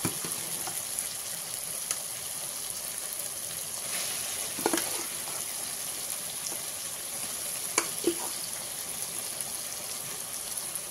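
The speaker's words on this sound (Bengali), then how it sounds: "মাংসটা দিয়ে এবারে খুব ভালো করে কষিয়ে নেব।" Chicken pieces frying in a pan with onion and tomato for a Bengali chicken and potato curry, a constant hissing sizzle with occasional spoon scrapes and bubbling pops.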